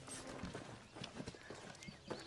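Horse hooves clip-clop at a steady walking rhythm in a horror film scene, faint and somewhat distant, set under a low, busy ambient bed.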